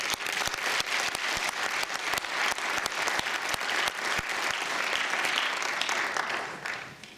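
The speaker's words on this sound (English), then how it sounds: "Let's have a round of applause for our debaters." A debate audience breaks into loud, sustained applause, a thick crowd of clapping hands that holds evenly for several seconds before tapering off at the end.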